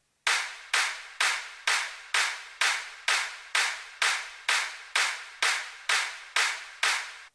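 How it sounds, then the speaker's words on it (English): Layered electronic clap samples programmed in FL Studio for a house beat, roughly fifteen thick, noisy snaps in an even steady rhythm, each with a slightly longer smeared tail, heard alone. "More clap with layer."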